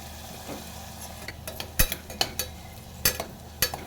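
Onion and tomato with asafoetida roasting in a pan, with a soft low sizzle under a few sharp scrapes and taps of a spatula against the pan, close and fairly quiet.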